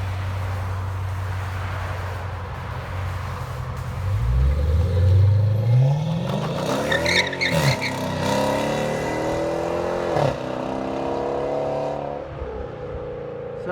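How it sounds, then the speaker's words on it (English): A 2015 Dodge Challenger R/T with a 5.7L HEMI and Flowmaster Super 10 dual exhaust pulls up nearby, its V8 swelling into a loud, rising growl, revving again, then settling to a burbling idle. "Let you guys hear it drive up in a second."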